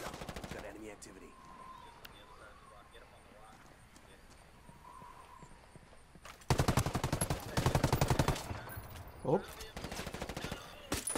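Gunfire in Ghost Recon Wildlands, a loud sustained volley of rapid automatic shots in the second half, with a quieter stretch before it where voices talk.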